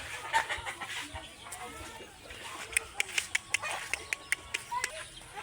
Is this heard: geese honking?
yes